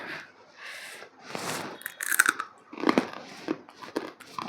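Fried pumpkin vadiyalu are crunched while eating, giving a series of loud, close, crisp bites and chewing crackles spaced irregularly about every half second.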